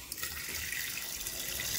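Tap water runs steadily into a pot for cod soup, a bright continuous hiss and splash, close and alone for a brief moment.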